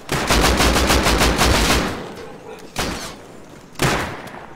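Gunfire in the video game Rust, heard as a loud rapid burst of automatic shots lasting nearly two seconds, followed by two separate single heavy shots spaced apart.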